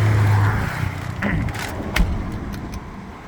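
A Honda Accord G8 2.0 on 18-inch wheels with the stock exhaust, its engine idling with a low, steady hum under a few faint clicks and knocks.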